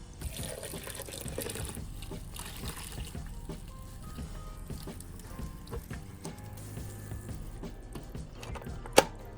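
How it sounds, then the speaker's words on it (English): Tank water poured into the filter of a betta fish tank, a soft continuous trickle and dribble of liquid, quiet and close, with faint background noises and one brief sharp knock near the end. "I'm gonna put the same tank water in here."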